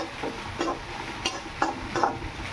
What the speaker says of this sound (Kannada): ಚಲೋದಂಗೆ ಹುರ್ಕೊಂಡು ಒಂದು 5 ನಿಮಿಷ ಹುರ್ಕೊಂಡು